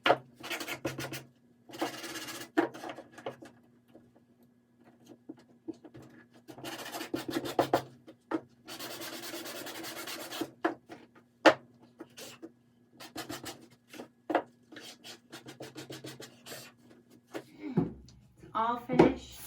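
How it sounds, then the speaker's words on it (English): Wood hand-sanded for a final finish, with intermittent bursts of rough rubbing strokes separated by pauses, close by, a steady low hum beneath and a knock near the end. "gonna do one last final sand on that, just to get the finish I like"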